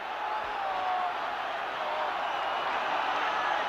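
Crowd at Molineux stadium during the 1972 Wolves v Spurs UEFA Cup final first leg: a broad, steady roar of many voices at a distance, unbroken and fairly even across the whole stretch.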